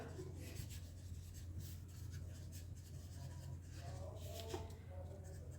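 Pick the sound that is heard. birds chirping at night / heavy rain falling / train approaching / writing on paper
writing on paper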